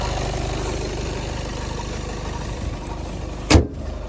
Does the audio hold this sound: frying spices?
no